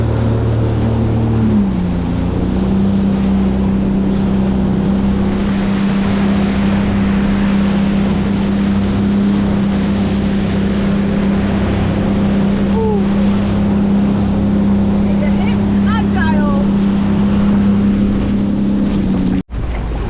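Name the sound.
jet ski engine running on water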